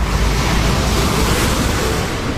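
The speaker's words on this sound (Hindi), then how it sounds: "सरहदों को तोड़कर समंदर उफान मारेगा" Loud, steady ocean surf fills the whole clip, a dense continuous roar of surging sea waves with wind-like hiss and no voices.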